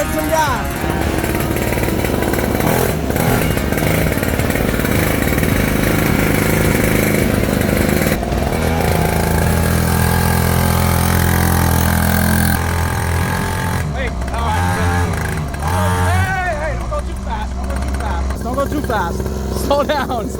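A small engine on a kids quad built from a budget Temu mini moto revs steadily and loudly up close as a young rider gives it gas, with voices talking over it.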